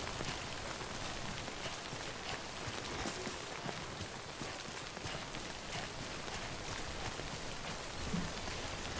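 Steady rainfall in the video game Death Stranding patters continuously, a soft, even hiss of drops with no voices and no breaks.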